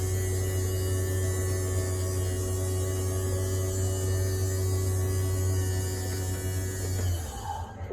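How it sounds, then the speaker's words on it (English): A camper's electric slide-out motor runs with a steady, loud mechanical hum and whine, then cuts off near the end, leaving a quieter tail. "what we're waiting for is the motor to shut down, and that tells us that it's at its max limit in"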